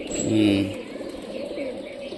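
A red piling pigeon lets out a single short, low coo close by, followed by a murmur of background noise.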